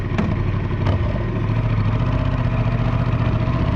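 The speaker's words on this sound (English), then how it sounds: "I put the mic here so that it gets the exhaust note." Honda Transalp XL 750 motorcycle exhaust, miked close at the pipe, holding a loud, steady idle with a throbbing mid-low rumble and a couple of brief clicks near the start.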